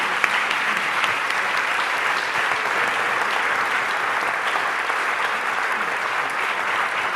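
An audience at a Berlinale Talents session applauds after a talk, a sustained, full burst of clapping that stays loud and even throughout, with no voices over it.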